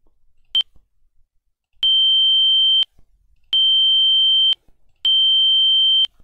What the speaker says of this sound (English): So here we are generating this test signal